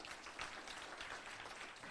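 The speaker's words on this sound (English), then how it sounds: "so round of applause for Brandon." Crowd at a racing series awards banquet in Pigeon Forge, Tennessee giving a short round of applause, a quiet, distant wash of clapping with no talk.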